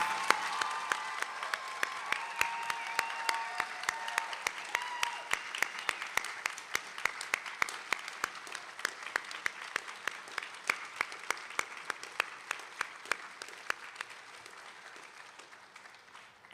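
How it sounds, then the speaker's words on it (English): An audience at a health sciences university white coat ceremony gives sustained applause, a dense wash of clapping with a few sharp individual claps standing out, fading gradually toward the end. "let's give one more big round of applause to our newest Whitecoat recipients"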